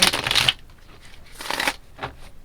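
Tarot cards being riffled and shuffled in two quick bursts, close and crisp, with a fainter flutter after, no talking.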